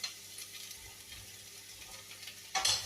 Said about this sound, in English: So I can add in my carrots now.